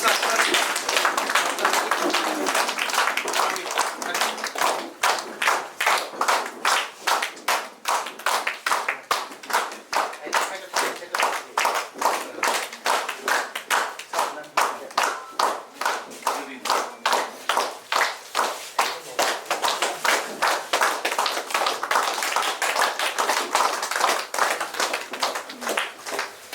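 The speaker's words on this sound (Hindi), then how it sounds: "चलो एक जोरदार तालियों के साथ।" At a marketing and township program event in Agartala, a large gathering gives loud, sustained applause that settles into steady rhythmic clapping in unison, sharp beats repeating evenly for nearly half a minute.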